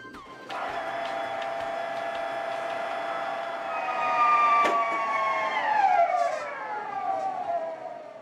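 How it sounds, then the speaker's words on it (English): A supercritical fluid extraction pump runs and pressurizes, giving a loud mechanical whine with several steady tones that rise in intensity and then glide downward as the pump slows near the end. "The pump will slow when it's fully pressurized"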